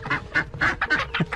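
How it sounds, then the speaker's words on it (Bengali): Ducks kept together with chickens in Manikganj, Bangladesh, quacking in a rapid run of about seven loud, nasal calls close by. "হাঁস আর মুরগি একসাথে?"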